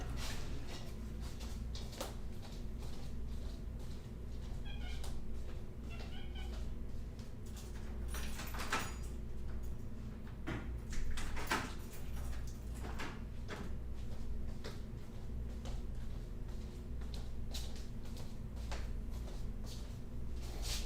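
A house door is opened to let a cat outside, giving a couple of soft clunks and slides under a low, constant room hum.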